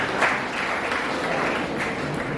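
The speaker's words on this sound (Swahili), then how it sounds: "So jipigieni makofi kwa sababu mmebarikiwa." A hall crowd of several hundred at a candle lighting event claps, producing dense, loud, continuous applause that fills the room without letting up.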